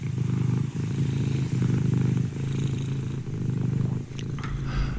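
A cat purrs close up, a loud, low, rhythmic rumble that pulses in steady breaths throughout, with faint scratchy movement near the end.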